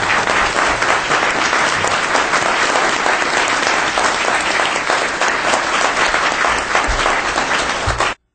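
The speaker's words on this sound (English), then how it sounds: "Give them a round of applause." Sustained, loud applause from a crowd at a county landfill public hearing, welcoming scouts, steady dense clapping for about eight seconds before stopping abruptly.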